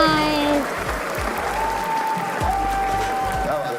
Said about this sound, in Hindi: एक बार अपने लिए ताली बजाई